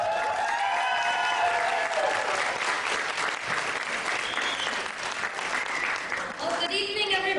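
A gala audience applauds loudly and steadily for several seconds, a dense wash of clapping with crowd murmur, and a voice speaking over it near the end.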